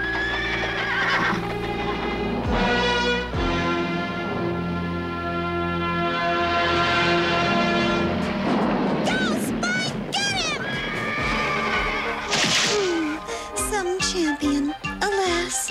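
A horse in an animated medieval jousting scene neighs loudly over swelling orchestral music, followed by galloping hoofbeats and clattering impacts, all loud and continuous.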